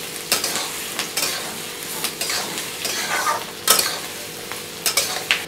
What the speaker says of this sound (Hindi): धीमी आंच करके इसको आराम से भुनते रहिए और चलाते रहिए